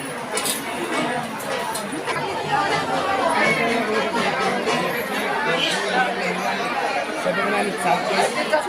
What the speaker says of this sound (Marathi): मित्रांनो बघू शकता एवढी गर्दी आहे एवढी गर्दी आहे बघा